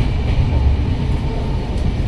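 Steady low rumble of a train running at speed, heard from inside a carriage with berths, a continuous dense roar with no distinct events.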